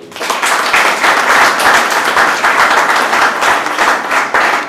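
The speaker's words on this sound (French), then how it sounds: "Je vous demande d'applaudir la NATCOM, s'il vous plaît." An audience at the inauguration of a school computer lab applauds loudly and steadily. Dense clapping continues without a break for several seconds.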